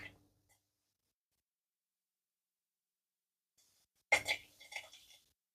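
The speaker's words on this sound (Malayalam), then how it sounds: "കടുക് പൊട്ടുന്നുണ്ട്." Mustard seeds pop in hot oil while a millet dish is being cooked: after a long near-silent stretch, a short cluster of sharp crackling pops bursts out close by and then fades.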